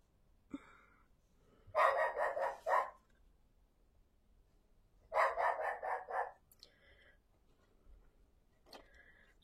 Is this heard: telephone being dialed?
no